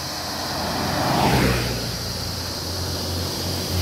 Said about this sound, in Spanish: Veamos cómo viene el carro.